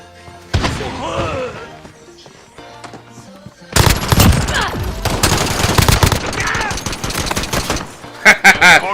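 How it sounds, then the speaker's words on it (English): Rapid bursts of automatic gunfire from a video game, a short exchange followed by a long, loud sustained barrage with a few final shots. "gunfire."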